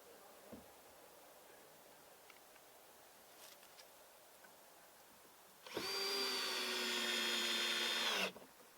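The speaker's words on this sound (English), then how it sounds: "It says reaching for the drill." A power drill whirs steadily for a few seconds driving a screw into wood, close by, then stops abruptly; faint handling clicks and taps before it starts.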